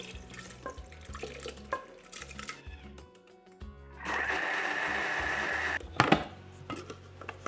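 Water poured into a hot pan of paneer tikka masala to loosen the stuck-on bits gives a loud steady sizzling hiss for a few seconds, followed by a couple of clanks and scrapes of cookware.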